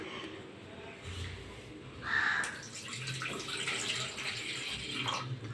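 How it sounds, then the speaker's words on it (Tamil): Water pours into tamarind in a home kitchen while rasam is being made, a soft running splash that rises briefly and then continues low under faint background noise. "இப்போ தேவையான அளவுக்கு தண்ணி ஊற்றிக்கலாம்."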